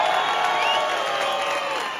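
A festive crowd at a street party, the Giro de Rigo cycling event, applauds and cheers in a dense, continuous wash of clapping and voices that thins slightly toward the end.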